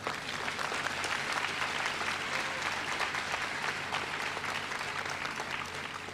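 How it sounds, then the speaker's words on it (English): A graduation ceremony audience at UWI Mona gives a round of applause for an honorary graduand, a dense, even wash of many hands clapping that holds steady throughout. "That demands a round of applause."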